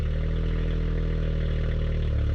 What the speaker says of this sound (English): Start it up with the exhaust as open as possible.